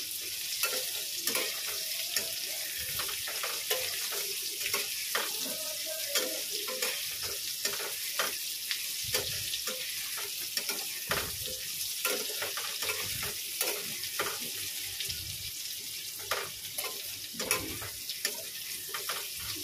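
Food frying in a pan with ginger and green chillies, a quiet steady sizzle broken by frequent short scraping and tapping strokes of a spatula as it is stirred.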